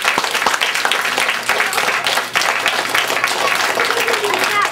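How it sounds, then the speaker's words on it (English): Audience applause at a school Dr. Seuss Day reading in Bound Brook, dense and steady across the room for the whole stretch, with a brief dip partway through and a hum underneath. "can we all give her a round of applause?"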